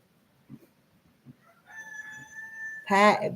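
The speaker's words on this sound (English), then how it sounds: "I think I woke up that rooster this morning." A rooster crows on a porch early on a summer morning, a single loud, close cock-a-doodle-doo rising and then ending in a sharp burst, after a few faint clucks.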